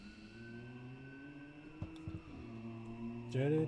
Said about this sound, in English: Don't know if you can hear all the sirens going off in the background.